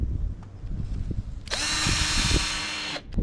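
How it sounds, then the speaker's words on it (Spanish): Power drill boring a pilot hole through melamine board, a high whine starting abruptly and running steadily for about a second and a half before stopping, close and clear over light background knocks. "Teniendo esta perforación con la misma broca guía, vamos a hacer la guía hasta el otro lado"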